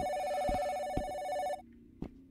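A telephone rings in the video game Phantom Dial, a bright electronic bell tone with a few soft knocks underneath, cutting off abruptly partway through and leaving a faint thump.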